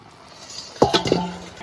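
A bowl resting as a lid on a pot of cooking rice is lifted off, making a few sharp, close clinks in quick succession after a quiet moment.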